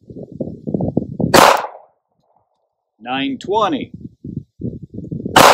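Two sharp, loud 9mm pistol shots firing AAC FMJ ammunition, one early and one at the end, separated by someone speaking a number and a chronograph-like beep pattern.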